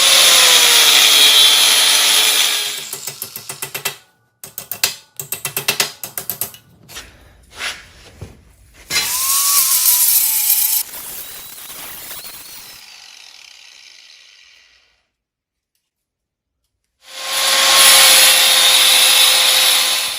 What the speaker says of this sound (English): cut it right here with the grinder.